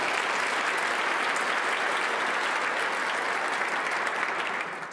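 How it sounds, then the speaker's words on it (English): Luncheon guests at Mayor Piko's 14th annual State of Our City address give the working staff a full, steady round of applause that holds evenly, then begins to fade near the end. "I would ask for a special round of applause for the staff that is working here today"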